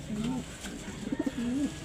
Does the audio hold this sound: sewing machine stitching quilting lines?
no